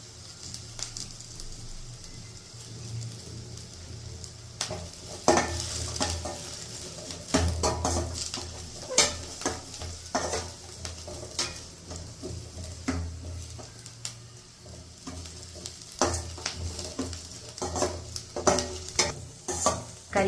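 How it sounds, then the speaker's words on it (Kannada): Curry leaves fry in oil on a low flame for a Mangalore-style chicken curry, a steady soft sizzle with intermittent stirring and scraping of a spoon against the pan throughout. "ಲೋ ಫ್ಲೇಮಲ್ಲೇ ಇಟ್ಕೊಂಡು ಫ್ರೈ ಮಾಡಬೇಕು. ಕರಿಬೇವನ್ನ ಸೇರಿಸ್ತಾ ಇದ್ದೀನಿ."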